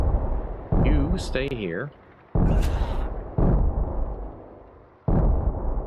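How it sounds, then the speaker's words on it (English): Anti-tank guns firing in the Panzer Strike war game: several heavy, booming blasts land one after another with short gaps between them, and a voice speaks briefly among the shots. "Too many anti-tank guns."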